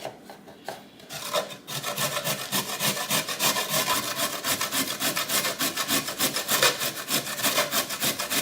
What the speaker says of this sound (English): So now that I have my carrots, I'm going to grate them to this side.